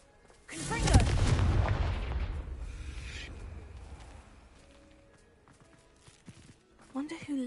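A Confringo fire spell cast in the game Hogwarts Legacy bursts with a loud, close blast, then trails off into a long, rumbling decay, followed by a few faint, scattered sounds near the end.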